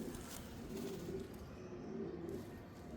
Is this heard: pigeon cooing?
yes